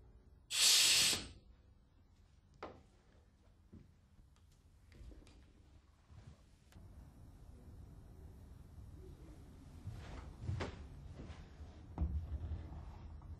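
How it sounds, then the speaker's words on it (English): An Alfa Laval LKB valve actuated by compressed air gives one sharp, loud burst of air hiss followed by a series of quieter mechanical clicks and thuds as it opens and closes several times, heard close in a quiet room. "Supply compressed air to the actuator and open and close the valve a few times"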